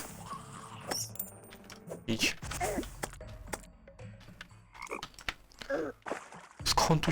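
A frog in the game Terraria gives low croaks amid busy game effects, a few short croaks mixed with clicks, thuds and scattered noises at moderate level.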